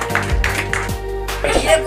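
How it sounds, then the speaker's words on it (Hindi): Guests clap at a child's birthday celebration, a few sharp claps scattered among loud nearby voices and chatter. "ताली मारो समस्ते ताली"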